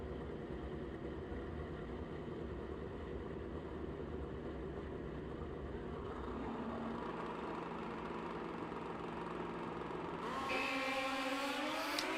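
A 1984 Suzuki GS 1150E drag racing motorcycle engine rumbles steadily at a distance at a drag strip, its low drone rising in pitch near the end.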